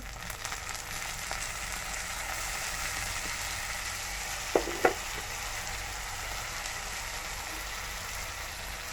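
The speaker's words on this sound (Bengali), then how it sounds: "আমার পেঁয়াজটা একটু ভাজা হয়ে আসছে, আমি একটু লবণ দিয়ে দিলাম পরিমাণ মতো।" Onions frying with salt in a pan while a spicy koi fish roast is cooked: a steady close sizzle throughout, broken by two sharp utensil clicks near the middle, with no talking.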